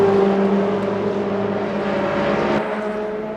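The number 3 Cadillac prototype races at the 24 Hours of Le Mans in the Le Mans Ultimate sim, its engine a loud, sustained buzzing drone that holds steady before easing off slightly.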